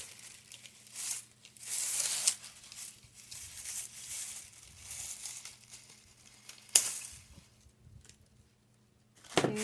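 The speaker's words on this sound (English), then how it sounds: "Then I'm going to get my scissors. Just going to cut the back of there" Scissors snip and rustle against the back of a fall pumpkin wreath, with crinkly cutting and crumpling sounds in irregular bursts, close and moderately quiet.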